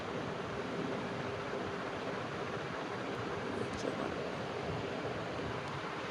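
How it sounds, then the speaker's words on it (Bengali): Wind blows steadily across an open rooftop, producing a constant, dense rushing roar close to the microphone with no pauses or other distinct sounds. "ছাদে আজকে বেশ বাতাস বইছে"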